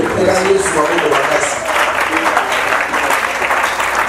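A congregation at a French-language evangelical church service bursts into loud, sustained applause with cheering, dense clapping that fills the room steadily throughout.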